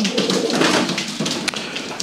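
Low, throaty cooing from a breeding pigeon repeats in soft rolling phrases close by, with a couple of faint taps near the end.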